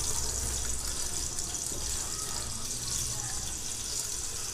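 Star anise and cardamom dropped into hot oil for a restaurant-style chicken biryani, giving a steady bright sizzle and crackle that runs evenly throughout with a low background hum.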